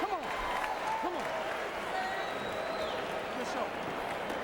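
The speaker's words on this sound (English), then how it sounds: "But the crowd getting behind Holyfield at the end." Boxing arena crowd cheering and applauding for Holyfield between rounds in the James Toney fight, a dense, continuous wash of roaring and clapping with a commentator's voice over it.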